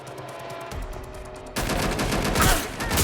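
Gunfire in Watch Dogs Legion: a few muffled shots up front, then a dense, loud burst of rapid fire from about halfway through that keeps going to the end, with no talking.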